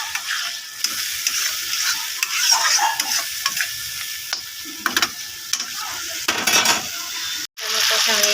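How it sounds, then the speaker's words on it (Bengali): Tomato is stir-fried with spice paste in a pan, a steady loud sizzle broken by repeated scraping strokes of a spatula, with no talking. "এটা মশলাটার সঙ্গে কষিয়ে নেব ভালো করে"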